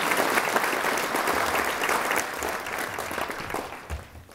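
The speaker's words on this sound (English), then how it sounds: "Let's give her a great round of applause." Sustained applause from a sizable audience, steady and dense clapping that gradually thins toward the end.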